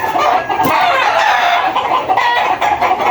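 Gray hens and a gray brood stag cluck steadily and close by, with a dense overlapping chorus of fowl calls throughout and no talk.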